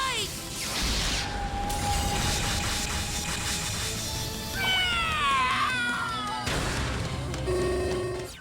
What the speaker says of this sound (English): Kit cries while meowing as a trapdoor swallows his furry body into the darkness